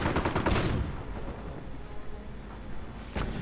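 Rapid bursts of gunfire in a video game battle between Panzer Grenadiers and airborne troops, dense crackling volleys loud at the start, continuing more softly, then a fresh burst near the end.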